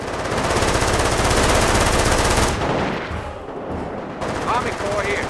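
Rapid machine gun fire in the real-time strategy game Company of Heroes: Modern Combat, a dense sustained burst that pauses briefly, then resumes with other battle noise.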